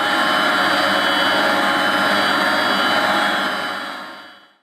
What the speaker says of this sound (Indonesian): Itu loh, mesin pompa air bisingnya minta ampun.